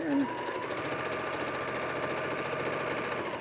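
A sewing machine stitches quilt pieces together in a steady, fast, even mechanical whir that runs without a break at moderate volume.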